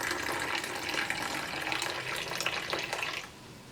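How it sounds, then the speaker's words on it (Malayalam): Homemade masala tea is poured from a slightly raised height into a cup, giving a steady splashing stream for about three seconds before it stops. "അപ്പോൾ നമുക്കിനി ചായ കപ്പിലേക്ക് ഒഴിക്കാം."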